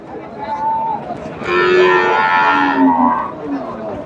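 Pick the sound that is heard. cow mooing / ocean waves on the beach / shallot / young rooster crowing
cow mooing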